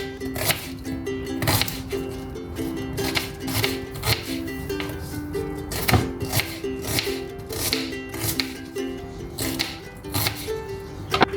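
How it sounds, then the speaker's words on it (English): Knife rhythmically chopping onions on a cutting board, steady sharp taps repeating about twice a second, close and clear with quiet background music. "Roughly chop the onions."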